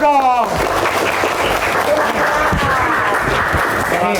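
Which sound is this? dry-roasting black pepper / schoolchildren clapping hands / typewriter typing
schoolchildren clapping hands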